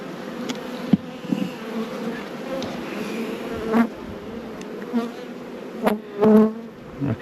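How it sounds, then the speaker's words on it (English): Honey bees buzzing steadily around Langstroth nuc frames, a dense close drone with occasional louder swells as individual bees pass near, no voices. "Basically, we're just catching the bees."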